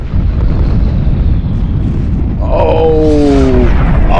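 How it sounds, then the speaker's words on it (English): Missile explosions in the Homeworld 2 space strategy game with a Star Wars Warlords mod: a continuous loud low rumbling barrage, with descending whining sweeps streaking in partway through. "Incoming hits. Here comes the Bothian missiles."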